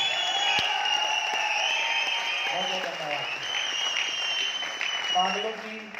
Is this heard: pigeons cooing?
no